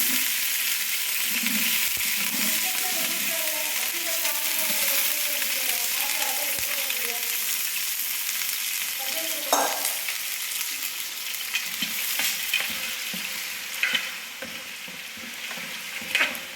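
Onions and green chillies frying in a large pot of oil, a steady broad sizzle throughout with occasional scraping stirs and faint clinks, close and continuous with no talking.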